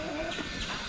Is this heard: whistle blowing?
no